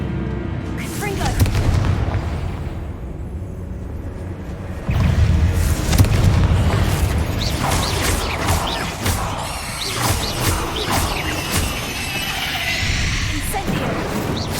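Repeated Confringo blast spells from the video game Hogwarts Legacy, a run of heavy booming explosions and crashing impacts in combat, with a voice talking over them.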